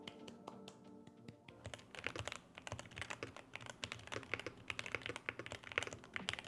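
Rapid, steady keystrokes clatter on a Wooting keyboard, close and fairly loud, a continuous flurry of taps with no voices over it.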